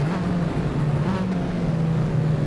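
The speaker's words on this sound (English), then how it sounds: "Listen to that Charger across the crest." A Charger race car engine drones steadily as it crosses a crest during a 1972-style touring car race at Wanneroo, a continuous loud engine note heard alone.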